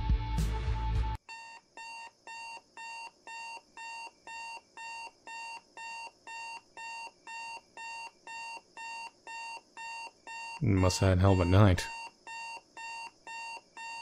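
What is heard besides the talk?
alarm clock ringing in the video game Football Game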